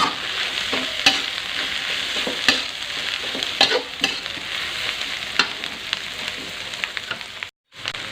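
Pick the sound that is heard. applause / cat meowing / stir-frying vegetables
stir-frying vegetables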